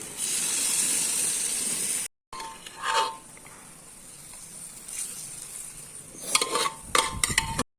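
Boiled dal hits hot fried onions in a tarka dal pan: a loud, steady sizzle for about two seconds, a brief break, then softer sputtering with a few utensil clinks near the end.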